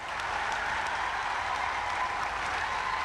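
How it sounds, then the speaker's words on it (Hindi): Loud, sustained applause from a standing crowd honouring the chief minister at a college statue-unveiling ceremony in Gorakhpur, a dense steady roar of many hands clapping throughout with no voices over it. "और तेज ताली बजनी चाहिए।"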